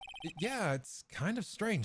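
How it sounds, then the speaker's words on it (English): A modern electronic phone ringtone gives a quick run of bright, evenly spaced beeps at the very start, then stops as a person begins talking over the rest. "I heard a phone ring just now, one of those newfangled ringtones."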